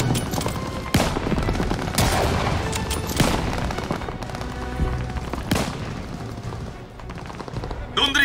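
Enemy gunfire in Call of Duty: Vanguard pours down from above a hotel lobby: dense, continuous automatic fire and loud cracking shots with occasional booms, sustained and close throughout.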